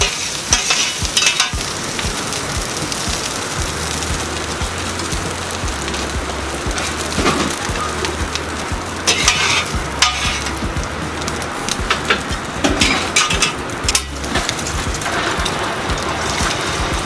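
Rice stir-fried in mala oil at a Singapore stall fills the space with a loud, continuous sizzle, broken by repeated scraping strokes of the spatula against the wok.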